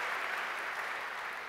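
An audience at a live Dungeons & Dragons game show at PAX Prime 2015 claps, a dense, even wash of applause heard at a moderate distance.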